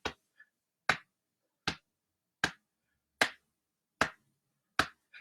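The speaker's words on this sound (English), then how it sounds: "you can just pound on your chest, you can clap your hands, you can stomp your feet" An audience keeping a simple rhythm by clapping, chest pounding or stomping: about seven sharp single hits at an even, unhurried pace, fairly quiet, with silence between them and no voices.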